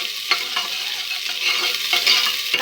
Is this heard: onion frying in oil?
yes